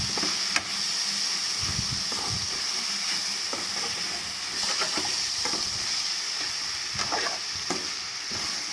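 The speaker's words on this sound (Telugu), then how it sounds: "మంచిగా వేగనివ్వాలి." Small fish with ginger garlic paste frying in a pan, a steady close sizzle and hiss with occasional stirring scrapes, continuous throughout without talk.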